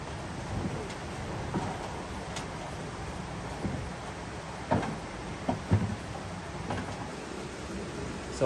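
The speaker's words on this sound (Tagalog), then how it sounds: "kahit umuulan at masama ang panahon" Steady rain falls in bad weather at a goat farm, a constant hiss of moderate loudness throughout, with a few louder irregular knocks and thumps near the end.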